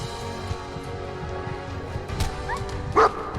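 A dog in Fallout 4 gives a short, sharp bark near the end, preceded by softer yips over a low game ambience.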